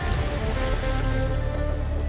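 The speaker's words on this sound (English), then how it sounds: "Rain comes down hard." Heavy rain pours down steadily, a dense, loud, continuous hiss and patter on surfaces with no gaps and no voices.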